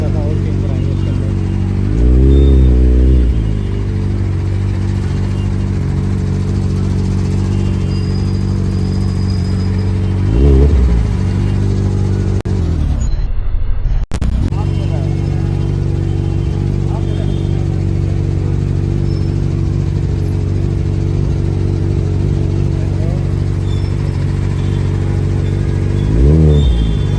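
A Kawasaki Ninja superbike fitted with an Austin Racing exhaust idles loudly with a deep burbling note, rising in several sharp revs spaced through the run, with one brief cut to near silence midway.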